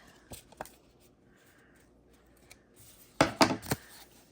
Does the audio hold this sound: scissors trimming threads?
yes